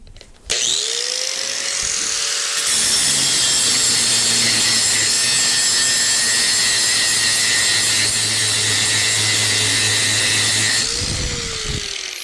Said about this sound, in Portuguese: eu vou começar com a esmerilhadeira com o disco mais grosso e vou forçar ela aqui